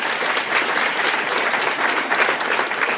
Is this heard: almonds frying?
no